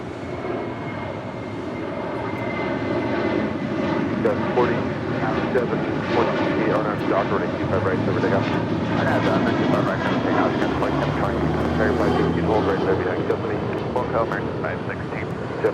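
Jet airplanes taking off at LAX, a loud, sustained engine roar that swells and rumbles throughout, with voices talking over it.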